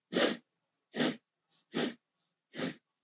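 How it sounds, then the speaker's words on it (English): A person breathing in through the nose in sharp, separate sniffs, four short bursts spaced across about three seconds, close and fairly loud with silence between them. "you breathe in 4 parts, 4 sniffs"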